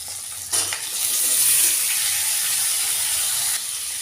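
A bowl of water is poured into a hot pan of hilsa fish curry with oil, cumin and green chillies, setting off a sudden loud hissing sizzle that holds steady for about three seconds and then drops back.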